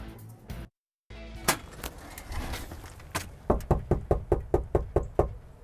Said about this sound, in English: It is one knock you do not want at your door.